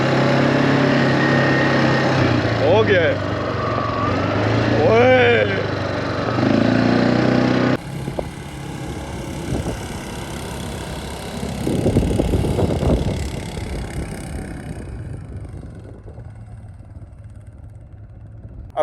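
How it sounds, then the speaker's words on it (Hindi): A quad bike engine drones while the bike is ridden in the Dubai desert, with wind buffeting the microphone and voices talking over it. The engine note shifts midway and then fades toward the end. "अभी इस क्वाड बाइक पे हम झूला लेंगे जी"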